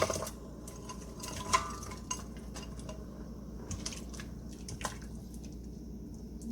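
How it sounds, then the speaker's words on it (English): Carrots going into a pot of curry, heard as scattered clinks of utensil against pot and soft wet squishes and drips, quiet and close, with no voices. "I'm actually going to add my carrots in."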